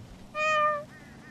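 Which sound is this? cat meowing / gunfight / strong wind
cat meowing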